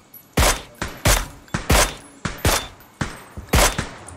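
Eight heavy, evenly spaced gunshots from a video game ring out about once every half second, each a loud sharp crack with a short decaying tail, with no talk over them.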